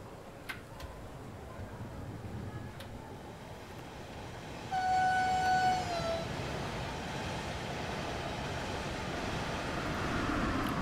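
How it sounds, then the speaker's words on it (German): A train runs past a station platform in the Hamburg–Lübeck route of a railway simulator, with a steady rolling rumble, a brief horn toot partway through and a continuous roar building as it passes close by. "Lass mal den Zug an uns vorbeifahren."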